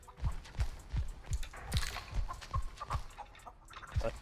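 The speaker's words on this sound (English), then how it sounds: "That's a chicken." Chicken clucks in the Texas Chain Saw Massacre video game, a steady series of short, regular clucks about every half second, fairly faint and heard alone.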